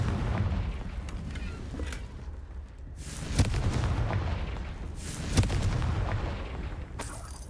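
Confringo fire spells blast repeatedly in the video game Hogwarts Legacy, with heavy booming bursts arriving every second or two over a dense, rumbling combat soundscape.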